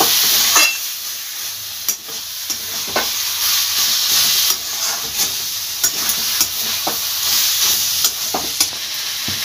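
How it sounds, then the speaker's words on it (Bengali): Shredded cabbage sizzles in a pan as ghee and ground garam masala are stirred through, a constant bright hiss broken by sharp scrapes and taps of the spoon at irregular intervals, close and loud, no voices. "মিশিয়ে নেব এবার ঘি আর গরম মশলার গুঁড়োটা"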